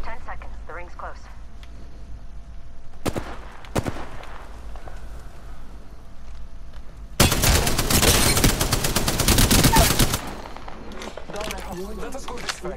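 Incoming gunfire striking the player in Apex Legends, a few sharp isolated shots followed by a loud sustained burst of rapid hits lasting about three seconds, with game ambience and a talking voice before and after.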